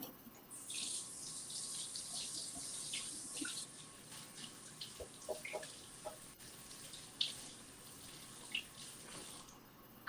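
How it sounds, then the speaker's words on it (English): Water runs from a tap at a sink while hands are rinsed: a faint, steady hiss of flow with small splashes and drips breaking in toward the end. "Let me rinse my hands."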